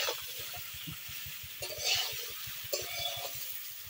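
Vegetables and drumstick stems fry in a pan with a soft, steady sizzle, broken by a few stirring scrapes and clinks, close up and fairly quiet, with no talking.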